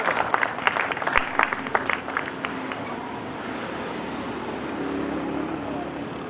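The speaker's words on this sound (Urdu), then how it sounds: "آپ کی بھرپور تالیاں، بھرپور تالیاں" An indoor audience at a formal event in Karachi applauds a chief guest, a burst of close clapping that thins out after about three seconds into a low murmuring hall.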